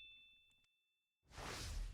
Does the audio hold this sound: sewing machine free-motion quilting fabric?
no